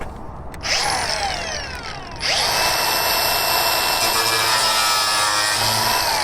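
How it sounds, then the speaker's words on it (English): Angle grinder with a metal cutoff wheel cutting into metal, a steady high whining shriek that starts, pauses briefly and then runs continuously and loud up close. "Angle grinder, it's a metal cutoff wheel, works really well."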